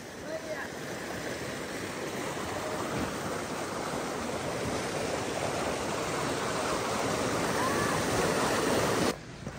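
The Nikas river stream in Birendranagar, Surkhet, flows with a steady broadband rush of running water that holds constant, then cuts off abruptly near the end.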